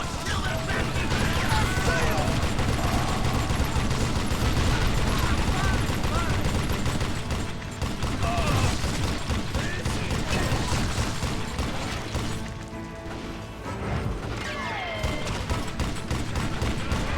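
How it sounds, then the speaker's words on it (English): Sustained rapid Gatling gun fire in the Western shooter Call of Juarez Gunslinger, loud and continuous with crashes and mechanical clatter throughout, briefly dipping around the middle, with a voice talking over it. "Love Gatling guns."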